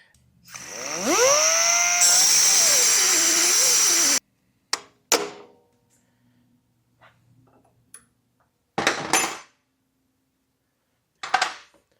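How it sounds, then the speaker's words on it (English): A power tool cuts off a stuck bolt on a Harley Dyna Super Glide belt guard, with a loud whirring that rises in pitch and grinds steadily for about three seconds, then short bursts and clinks of metal. "we're gonna go ahead and cut this guy off so that way I can get it out"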